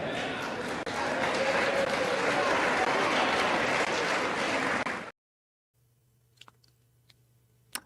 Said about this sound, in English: And people clapped.